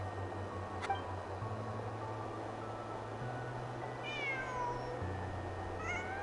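A cat in the video game Genshin Impact meows a few times, soft and somewhat distant, over a steady low ambient hum and faint background game sounds.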